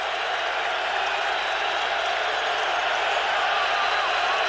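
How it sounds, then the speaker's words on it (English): A dense, steady roar from a packed football stadium crowd at a Raiders at Patriots NFL game, swelling with cheering and applause without a break from start to finish. "Crowd rising."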